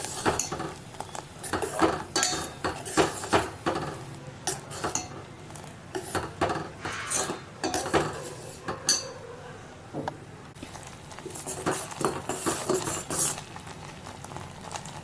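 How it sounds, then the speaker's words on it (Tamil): Sugar syrup being stirred in a pan on the stove for a kamerkat sweet, with a spoon clinking and scraping against metal in busy, repeated strokes, alongside light bubbling; nobody speaks. "இப்போ வந்து இதை நல்லா கலக்கி விடுங்க."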